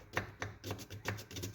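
A knife chops half a red onion on a cutting board, making a quick, quiet series of rhythmic taps about every quarter second.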